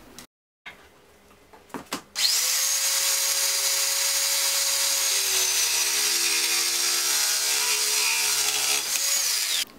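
A power saw cuts the last piece for a homemade shoulder camera mount, spinning up after a few handling knocks and then whining loudly and steadily for about seven seconds before stopping.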